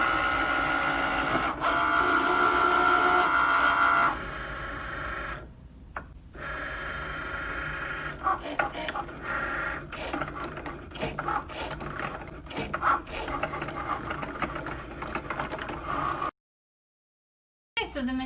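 A Cricut Maker cutting machine running a test cut, whirring motor and carriage movement with irregular ticking and clicking bursts, close and steady, pausing briefly before a final stop.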